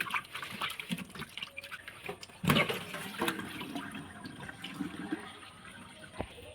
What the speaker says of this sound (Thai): แรกเราทำการล้างก่อนนะครับ ทำการล้างน้ำก่อน